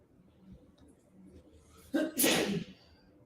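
A single sneeze bursts out loudly about two thirds of the way in, preceded by a short sharp intake of breath, over a quiet room background.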